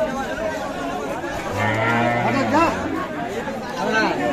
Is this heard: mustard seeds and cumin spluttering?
no